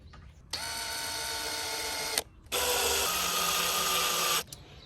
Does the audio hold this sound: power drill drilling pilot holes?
yes